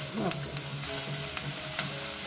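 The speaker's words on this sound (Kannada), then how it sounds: "ಇದನ್ನ ಕೆಂಪಾಗೋ ತನಕ ಹುರ್ಕೋಬೇಕಾಯ್ತಾ ಜಾಸ್ತಿ ಕೆಂಪು ಆಗ್ಬಾರ್ದು ಪ್ರತಿಭಾ" Gravy base for a raw jackfruit dish frying in a pan while being stirred: a steady, close sizzle with scraping stir strokes throughout, no voices.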